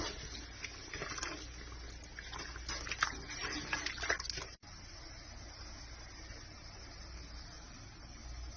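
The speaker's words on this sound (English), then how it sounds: "So this hard boils now for 2 minutes." Pot of dandelion jelly with four cups of added sugar boiling hard on the stove, a steady bubbling, gushing roil heard close throughout, louder and busier in the first half.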